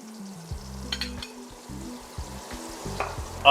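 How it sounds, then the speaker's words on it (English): Pork chops sizzle and crackle steadily in a hot frying pan, close up, with occasional light scraping and stirring sounds. "Man, check out that sizzle."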